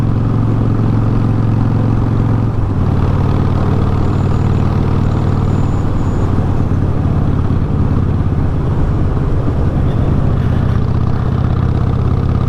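Steady low engine rumble with wind noise runs throughout, loud and constant, from a Harley-Davidson Sportster 1200C motorcycle cruising along a road in Ohio.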